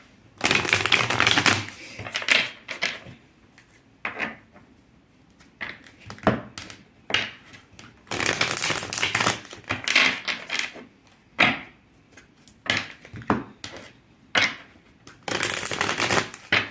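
Tarot cards are shuffled in repeated bursts of riffling and flapping, close and crisp, with short pauses between rounds and no voice.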